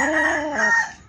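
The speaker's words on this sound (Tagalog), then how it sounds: "Cute sang manok mo ba?" A rooster crows a single full cock-a-doodle-doo, loud and close, its call rising and then trailing off over about a second with no other sounds.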